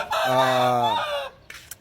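A rooster lets out one loud, close crow that lasts just over a second, followed by a couple of faint, brief noises.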